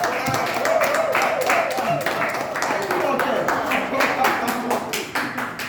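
An audience claps for a group of presenters at a workshop session, with scattered, uneven hand claps running throughout and voices talking over them.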